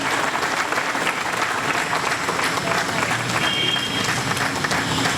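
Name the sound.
audience applause welcoming the doctor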